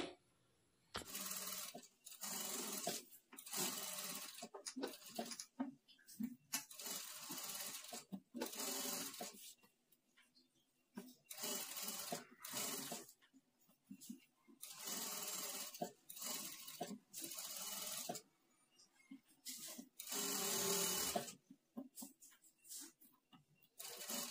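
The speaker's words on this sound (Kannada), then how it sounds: "ಈ ಫ್ಯಾಬ್ರಿಕನ್ನು ನೀಟಾಗಿ ಸರಿ ಮಾಡಿಕೊಂಡು ಈ ಎಡ್ಜ್ಗೆ ಸ್ಟಿಚ್ ಬೀಳೋ ಥರ ಸ್ಟಿಚ್ ಮಾಡ್ಕೊಳ್ತಾ ಬರಬೇಕು" A sewing machine stitches along the edge of a work blouse in repeated bursts of fast whirring, each lasting a second or two, separated by short quiet pauses as the fabric is adjusted. No one speaks.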